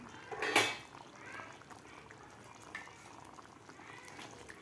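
Paneer masala gravy bubbling in a pan, a soft steady simmer with low gurgling pops and one brief louder burst near the start, heard close and alone without talk.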